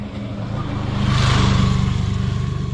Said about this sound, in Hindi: जरा बाइक वाले को जाने दो